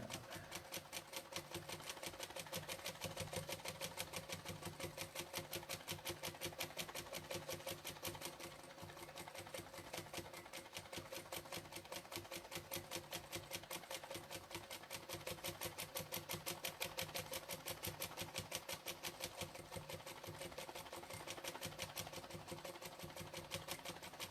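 An industrial sit-down sewing machine runs steadily through free motion quilting on silk, a fast, even needle chatter that holds for the whole stretch and eases only briefly in the middle, with no talking.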